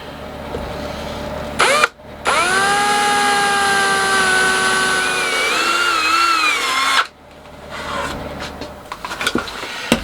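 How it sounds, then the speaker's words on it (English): A power drill whines steadily at close range for several seconds, its pitch wavering slightly as it bores a small hole in a cyclekart steering wheel part, then stops, followed by scraping and rustling. "we'll drill a small hole for that"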